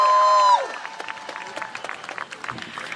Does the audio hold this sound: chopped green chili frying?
no